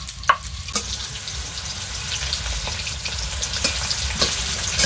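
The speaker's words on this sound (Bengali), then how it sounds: "আলুটা প্রায় ভাজা ভাজা হয়ে এসছে" Potatoes frying in a pan for a village-style chicken curry, a steady loud sizzle with occasional scraping stirs and crackling pops running throughout, no voices.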